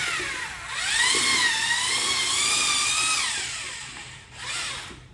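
A power drill fitted with a paddle churns concrete in a 5-gallon bucket, its loud whining motor climbing in speed, holding, easing off, then surging again near the end.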